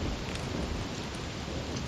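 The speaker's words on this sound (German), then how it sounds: "Wow. Böser Blitz." A thunderstorm in the survival game Don't Starve: a dense, loud wash of rain with a low rumble of thunder running continuously under it, no voices.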